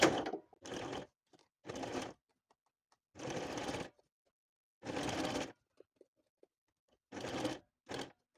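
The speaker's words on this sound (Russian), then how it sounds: "Отгибаю кусочки синели и делаю строчку." Sewing machine stitching strips of chenille made from old jeans, running in several loud bursts of steady motor whir separated by short pauses and faint clicks.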